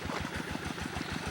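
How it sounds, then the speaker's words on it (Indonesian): A tractor engine tilling a muddy rice paddy, chugging in a steady fast low pulse, close and continuous with no talk over it. "Ini adalah proses peluburan tanah dengan menggunakan traktor"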